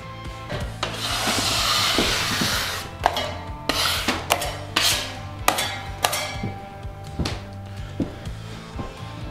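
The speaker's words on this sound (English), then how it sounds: "Now we're going to pinch our tape to the wall with our drive wheels." An automatic drywall taper, its drive wheels pressing tape onto a wall, gives a sustained rubbing rasp followed by a string of sharp clicks and knocks, fairly loud and near.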